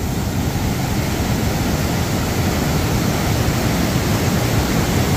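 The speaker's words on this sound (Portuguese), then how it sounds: "Tô chegando em cima aí, em cima da cachoeira." Cachoeira do Urubu in Primavera, Pernambuco, swollen after heavy rains, sends a large volume of water crashing down in a constant, loud, hissing roar with no break.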